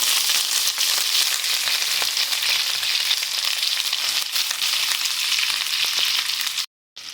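Mustard seeds, onion and curry leaves fry in hot oil, giving a steady, loud, close sizzle that crackles evenly throughout and cuts out abruptly near the end.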